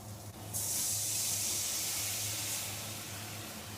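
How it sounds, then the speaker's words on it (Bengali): Water pours steadily into a pan of Bengali hilsa fish curry, a continuous hissing splash close by that starts abruptly and runs on without pause. "এবার জল দিয়ে দেবো।"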